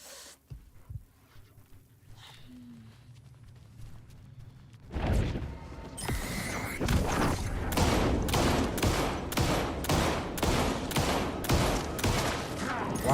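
Video game gunfire: after a quiet stretch with faint sounds, a rapid string of loud, evenly spaced shots bursts in and keeps going to the end.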